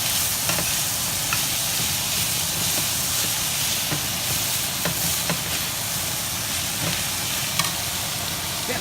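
Steak sautés in a hot pan with a constant loud sizzle and frying hiss, broken by occasional sharp pops and crackles, with no voices.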